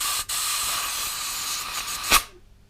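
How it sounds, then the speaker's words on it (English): A steady, loud hiss of air blown through a Yamaha XS1100 motorcycle carburetor runs for about two seconds with a brief break near the start, then a short louder puff before it dies away. "So if you blow air down, it should come straight through that."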